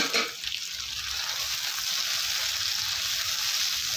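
Tomatoes with onions and potatoes frying in a pan, a steady bright hiss of sizzling that continues evenly throughout after a brief stirring clatter at the start.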